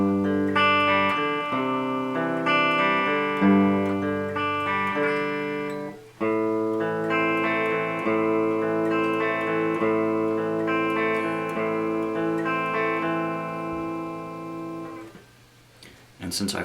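An electric guitar with effects slowly plays the pre-chorus chord progression of a song, sustained ringing chords changing at an unhurried pace, played alone.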